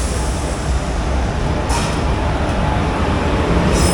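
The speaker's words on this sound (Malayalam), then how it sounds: "കയറി വരുന്നു ഗുരുവായൂർ തിരുവനന്തപുരം ഇൻ്റർസിറ്റി എക്സ്പ്രസ്" Guruvayur–Thiruvananthapuram Intercity Express pulling into Kollam station, a steady broadband rumble of rolling wagons holding at a constant level throughout, with no voices.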